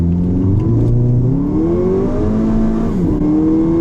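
A Volkswagen Jetta GLI with about 300 horsepower launching from a standstill, its engine revving loud and close, pitch climbing steadily through the gears with a brief dip at a shift.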